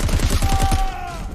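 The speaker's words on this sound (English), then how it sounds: "Shoot the targets and the platforms will rise." Rapid bursts of gunfire from Crackdown 3 as an agent shoots targets, a quick run of about six loud shots followed by a sustained electronic tone and fading game ambience.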